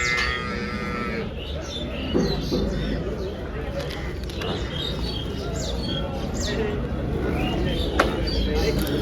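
A large buffalo moos in low drawn-out calls amid buffalo market noise, with birds chirping and people talking in the background.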